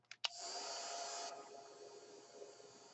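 A hair dryer blows over wet paint on paper, starting after two quick clicks with a steady close whoosh that drops to a softer, lower hiss partway through.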